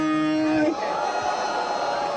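A battle rap audience cheers for a rapper at a Batalha Da Leste event in São Paulo. A host's voice is cut off and gives way to a brief, noisy crowd roar of shouts and yells.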